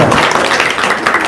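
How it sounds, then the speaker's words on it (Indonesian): Audience clapping at a gathering: a dense, steady burst of crowd applause, fairly loud and continuous for about a second and a half, with no talk over it. "Sip, tepuk tangan dong."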